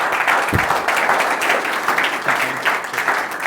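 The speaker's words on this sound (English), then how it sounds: "Everyone, please give a big round of applause for Steve" Dense, continuous applause from an audience at a sport performance innovation forum workshop, loud and sustained throughout with a brief low thump near the start.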